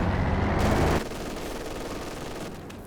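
Heavy .50 cal machine gun fire in the Company of Heroes 2 strategy game: a loud, dense rattling burst for about a second, then a lower sustained battle din trailing off.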